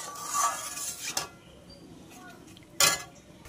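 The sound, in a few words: clinking of a plate and pot while cooking loté fish curry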